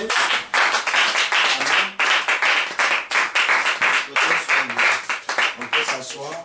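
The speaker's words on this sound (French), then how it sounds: "On peut acclamer." A church congregation breaks into loud sustained applause, dense rhythmic clapping close by with a few voices calling out amid it.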